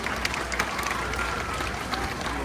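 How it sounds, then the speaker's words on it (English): Crowd at an outdoor bird show applauding a volunteer, a steady wash of scattered clapping at moderate distance, continuous and fairly even with a few sharper claps standing out. "how about a round of applause for our volunteer,"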